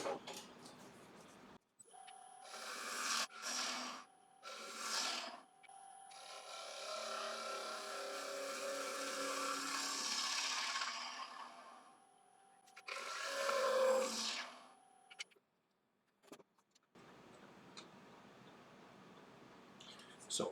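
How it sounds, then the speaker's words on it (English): A wood lathe cuts the bottom of a live edge bowl in loud, sustained roaring passes broken by short pauses, with a high whine and tool scraping close by. "so I need to take another couple of cuts in the bottom"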